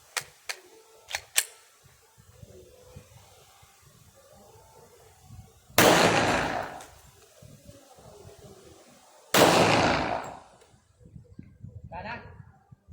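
Two loud, sharp blasts of a gunshot fired at close range at a cemetery while testing an amulet, spaced a few seconds apart, each with a short decaying tail, with light tapping and people talking between them.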